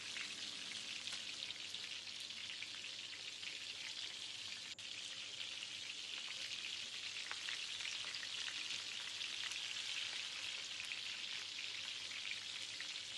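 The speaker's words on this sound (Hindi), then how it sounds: "अब मैं इसके अंदर सबसे पहले अदरक और लहसुन का पेस्ट डालूंगी और उसको 3 से 4 मिनट के लिए हल्की आंच पे पकाऊंगी" Ginger garlic paste frying in oil in a pan over low heat, a steady soft sizzle and crackle running evenly throughout with no talking.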